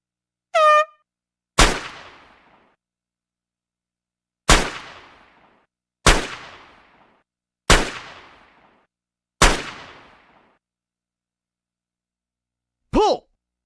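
Clay target shooting with a shotgun in a PlayStation 2 game: five sharp, loud single shots spaced a second or two apart, each with a short decaying tail, plus brief voice calls at the start and end.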